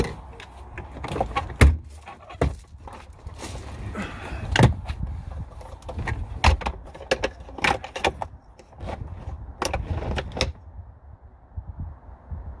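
A Lotus Elan SE M100 convertible roof mechanism raising itself, heard as a run of sharp mechanical clicks, knocks and latch thunks scattered over a low motor whir, fairly close and with no talking.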